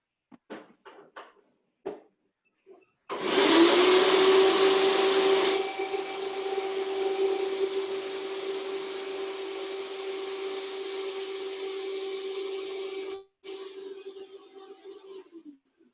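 A vacuum cleaner being repaired at a fix-it clinic switches on after a few clicks and runs with a steady whine and drone, briefly cutting out before starting again.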